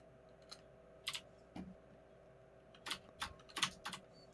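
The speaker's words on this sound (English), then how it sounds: "you're smashing a lot of keys, which means you're jumping." Computer keyboard keys hammered rapidly during a Trouble in Terrorist Town match, with scattered bursts of clicky taps in quick clusters, close and fairly quiet over a steady background hum.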